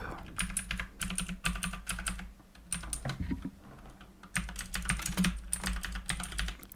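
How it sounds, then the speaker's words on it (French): Rapid clacking of keys on a mechanical keyboard, steady bursts of typing with brief pauses, close and fairly loud. "Il parle de ce clavier là, qui est mon clavier mécanique de tous les jours."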